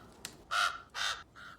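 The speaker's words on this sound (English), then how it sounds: "Don't listen to it. Crows are all liars." Crow cawing in a television drama scene: three loud, harsh caws in quick succession, the last one shorter and softer, with no talking.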